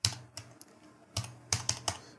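Keys clacking on a computer keyboard as a website address is typed, a few separate taps then a quick burst of three or four, close and moderately loud with no talking.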